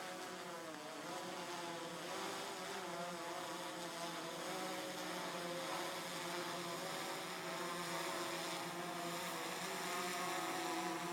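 A DJI Phantom 3 Professional quadcopter drone flies overhead with a steady, loud whining buzz from its propellers, its pitch wavering slightly throughout with no speech.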